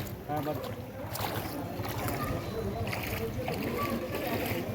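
A boat moves through floodwater at Ghatal with steady sloshing and churning, a continuous rushing wash throughout, with voices faintly mixed in the background.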